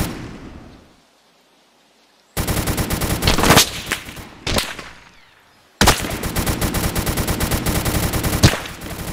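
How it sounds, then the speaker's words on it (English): Bursts of rapid automatic enemy gunfire in an SCP site roleplay shooter game, loud and close, two long sustained volleys separated by a quiet gap, with no talking. "Enemy gun."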